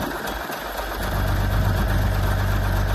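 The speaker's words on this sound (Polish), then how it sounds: "traktor nagle zaczął lepiej chodzić" A Zetor 4718 tractor engine idles loudly and steadily after a winter cold start, its low chugging growing fuller and more even after the first second.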